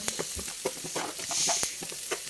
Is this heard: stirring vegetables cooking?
yes